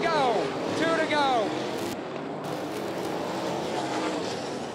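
USCS sprint cars race at 411 Motor Speedway, engines snarling past with rising and falling pitch sweeps as they pass, then a steady roar from the field, under a track announcer's loud commentary.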